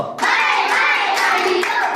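Many hands clap together to the left during a children's clapping song, producing a busy, continuous patter with periodic louder beats, near and sustained throughout.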